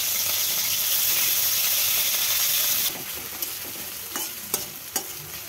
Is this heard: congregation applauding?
no